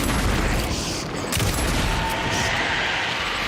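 Gunfire in the video game Alan Wake 2: loud, dense blasts that blur into one continuous roaring barrage, with a brief dip partway through.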